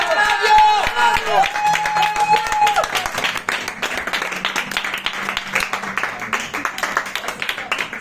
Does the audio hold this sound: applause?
yes